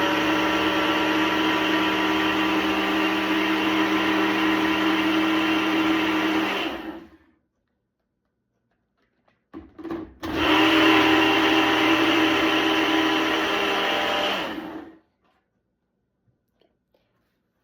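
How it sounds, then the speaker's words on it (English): Strawberry smoothie churning in a blender: a loud, steady whir for about seven seconds, a brief stop, then a second equally loud run of similar length before cutting out. "You put it in your blender, and right now you're going to blend it until it's a smooth consistency"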